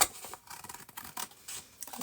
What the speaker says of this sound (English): this one here I'm going to actually just cut in half